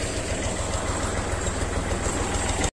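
A tractor engine runs a tubewell, chugging loudly and continuously with a steady rhythmic knock, close by and alone, then cutting off abruptly at the end.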